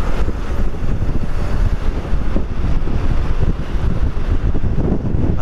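Strong wind buffets the microphone during a motorcycle ride in Palo, Leyte, a loud continuous roar with rumbling low gusts lasting throughout, with no voices.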